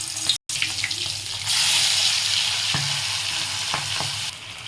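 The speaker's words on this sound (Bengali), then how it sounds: "এখন ছোট মাছের টুকরোগুলো দিয়ে দিলাম" Hilsa fish pieces dropped into hot oil in a wok set off a loud sustained sizzle that rises sharply partway through and holds steady, with a few utensil taps.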